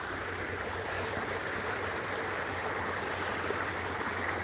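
Steady broadband rush of McMillan Creek flowing over rocks, continuous and even throughout, close and moderately loud with no voices.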